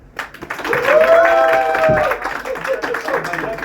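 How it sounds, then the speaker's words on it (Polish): Audience applause at a Warsaw battle-LARP conference talk, a burst of clapping from the room that swells and then continues steadily while a voice calls out over it. "Wielkie brawa!"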